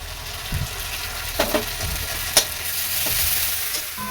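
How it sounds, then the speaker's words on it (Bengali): Onions and spice paste sizzle in hot oil as a spoon stirs them, giving a steady frying hiss punctuated by a few sharp scraping knocks against the pan. "পেঁয়াজগুলো ভাজা হয়ে গেছে এখন মশলাটা দিয়ে দিলাম"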